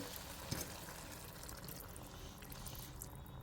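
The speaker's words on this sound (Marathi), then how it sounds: "आता आपण भाजीत गरम पाणी टाकून घेणार आहोत मी साधारणतः इथे एक ते दीड ग्लास पाणी घालून घेत आहे" Hot water is poured into a simmering vegetable curry in a cooking pan, a soft continuous splashing pour that is faint and steady throughout, with no voices.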